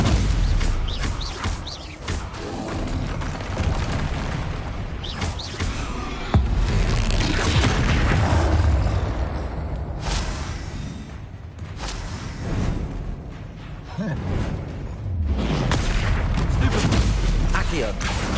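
Confringo blasts from Hogwarts Legacy, heard as repeated booming explosions and bursts across a dense, loud game battle, with someone talking over the action throughout.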